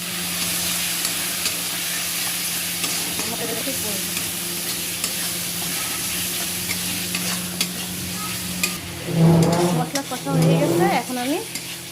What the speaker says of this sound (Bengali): হলুদ দিয়েছি এবার নাড়াচাড়া করে